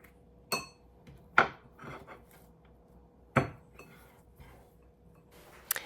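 Onion being chopped with a knife on a cutting board in a homestead kitchen, a few sharp, separated knocks spaced irregularly, close and fairly quiet against a still background, no talking.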